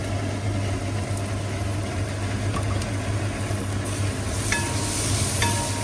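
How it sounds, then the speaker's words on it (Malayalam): Onions with salt being stirred in a pan for a traditional Kerala roasted-coconut chicken curry, a steady close sizzle of frying under continuous scraping and stirring, with no voices. "പിന്നെ ഇളക്കി കൊടുത്തുകൊണ്ടേ ഇരിക്കുക."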